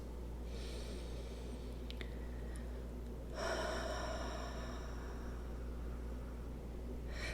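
Slow, deep breathing during a yin yoga pose: a soft inhale, then a longer, fuller exhale, close and quiet over a steady low hum, with no talk.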